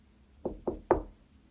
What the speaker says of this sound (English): she knocked on an open door.